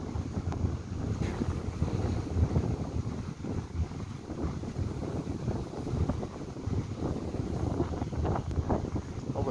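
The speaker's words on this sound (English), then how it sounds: "this rain really bad and big waves at the beach here" Heavy rain and strong wind sweep Mai Khao Beach in Phuket as big waves surge, making a rough, continuous roar with heavy wind buffeting on the microphone and no clear voices.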